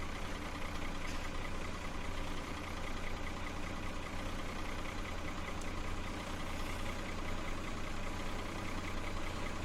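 Tractor engine in the Farming Simulator 17 game ticking over at idle while muck spreading on Drumard Farm, a faint, steady low hum with no speech.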